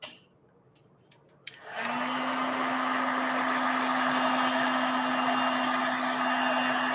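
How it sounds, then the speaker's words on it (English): A heat gun switches on with a click and then blows a loud, steady whirring roar with a constant hum, heating stamped paper for powder embossing; a few light clicks come before it starts. "So that's another reason I have the heat gun ready to go."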